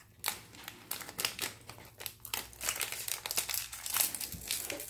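Plastic toy packaging for LOL bling dolls crinkles and crackles up close, with irregular bursts of rustling and crumpling as the package is opened, and no talk over it.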